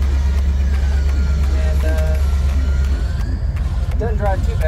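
A restored 1952 Ford F1 pickup that still needs tuning drives down a road, its engine a loud, steady low rumble close by, with a voice talking over it.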